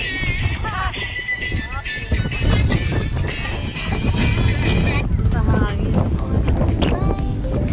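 Strong wind buffets the microphone in a steady, roaring rumble at a scenic Taiwan geopark, with people talking over it throughout.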